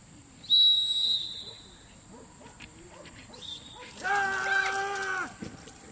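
A training whistle at a 2011 PSA protection-dog seminar gives a sharp, high, loud blast, followed a few seconds later by a longer, fuller sustained tone over faint outdoor background.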